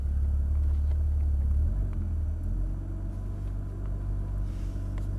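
A Porsche Cayman GTS with a manual gearbox pulling away gently in first gear, heard from inside as a loud, low engine rumble that eases slightly as the car starts rolling, with no talking.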